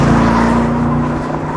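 A 2024 Aston Martin Vantage V8 coupe engine revs hard and loud up close, a steady roaring drone with a strong low rumble that holds throughout, with no talking.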